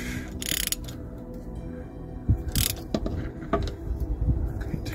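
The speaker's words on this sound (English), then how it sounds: "Get your ratchet going the right way, obviously." A ratchet works a bolt loose on a Citroen C1 during a service and front brake job, giving close, sharp clicking bursts in an uneven rhythm.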